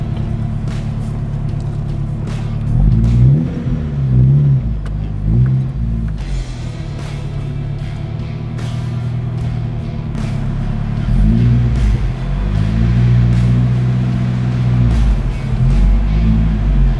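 A Nissan Navara engine idles with a deep rumble, then revs repeatedly in bursts, rising and falling loudly and close by, with no talking.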